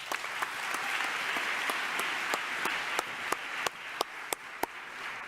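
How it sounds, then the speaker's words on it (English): Audience at an awards ceremony claps in a sustained, even wash of applause, with a few sharp, louder individual claps standing out near the end. "Let's have one more round of applause for David Wagner and Florida Blue."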